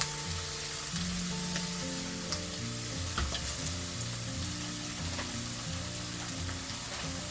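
Mushrooms frying in a pan for a mushroom and egg stir fry, a constant close bubbling sizzle that holds steady throughout with faint scrapes and no voices.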